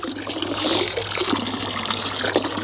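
Boiling water, 1.8 litres from an electric kettle, is poured into a large INTEX Easy Set above-ground garden pool holding nearly 900 litres, giving a steady rushing, splashing pour throughout, with no talk.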